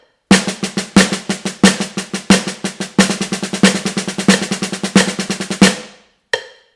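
A drum played in single paradiddles and paradiddle-diddles: crisp, evenly spaced strokes with regular accents roll on steadily for about five seconds, stop, then one last isolated hit rings out.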